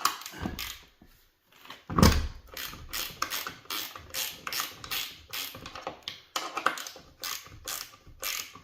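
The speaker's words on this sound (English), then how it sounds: "Like these old gear wrenches." An old gear wrench ratchets in repeated short bursts of clicking, close and distinct, while a hydraulic lift pump is mounted in a shop, with a louder clunk near the start.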